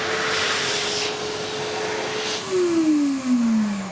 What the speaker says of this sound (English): the hand dryer will turn on without us even having to press a button, like this.